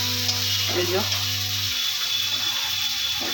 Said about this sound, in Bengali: তো আমি হালকা করে একটু চালানি করে নিচ্ছি আলুগুলো মোটামুটি সিদ্ধ হয়ে গেছে